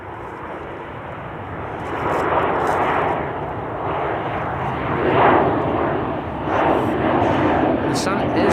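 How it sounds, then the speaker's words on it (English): A KLM Embraer E2 195 jet taking off at Schiphol rumbles steadily at moderate distance, swelling and easing in waves while someone talks throughout. "KLM Flight 1365 to Budapest, E2 Embraer 195. Yeah, that's now moving."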